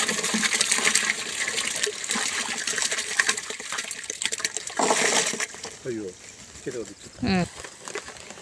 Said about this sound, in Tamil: அந்த தண்ணியில் இந்த கடலை புண்ணாக்கை கொட்டிக்கலாம்